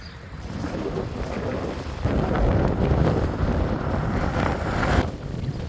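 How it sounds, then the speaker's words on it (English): Strong direct headwind buffeting a microphone while riding a bicycle in first gear on the Ohio to Erie Trail, a steady loud roar with gusty surges throughout. "I am in first gear pushing direct headwinds."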